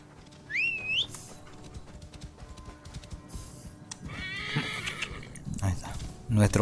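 A horse in the Assassin's Creed Origins video game lets out a short, high, wavering neigh near the start, followed by hoof clatter and game effects while someone talks in Spanish over it.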